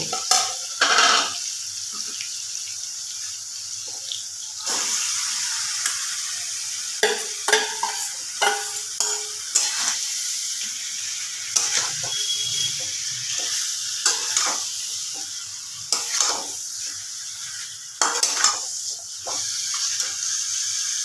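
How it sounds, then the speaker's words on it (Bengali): Marinated chicken sizzles loudly in a kadai with a steady frying hiss, while a spoon scrapes and stirs it in repeated bursts up close. "এবার আমি ম্যারিনেট করা চিকেনটা দিয়ে দেব"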